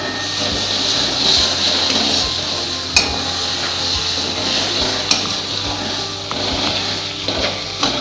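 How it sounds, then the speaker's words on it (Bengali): Mashed roasted eggplant is stirred and browned in a pan, a dense sizzle with a spatula scraping and knocking against the metal, including two sharp clanks. "এই আবার একটু এরমভাবে নাড়িয়ে চাড়িয়ে ততক্ষণ এটা করবো যতক্ষণের কালারটা চেঞ্জ না হয়ে যাচ্ছে।"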